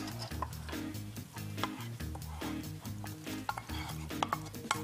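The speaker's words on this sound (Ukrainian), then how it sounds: "Легенько помішали вже ложкою." A spoon scrapes and stirs through a thick spinach and feta pie filling in a pan, with steady rhythmic clinks against the pan, under a low musical background.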